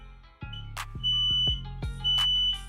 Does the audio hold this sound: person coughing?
no